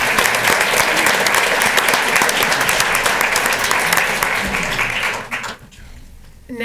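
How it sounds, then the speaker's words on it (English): Enthusiastic applause from an audience at a school board of education meeting, loud dense clapping that holds steady for about five seconds before quickly tapering off to near silence. "Give them one more round of applause."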